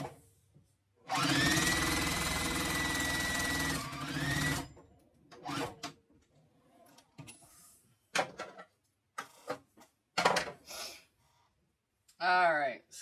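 A sewing machine runs in one steady loud burst for about four seconds, stitching a fabric piece onto a quilted zipper case, followed by handling noises and short stretches of talk.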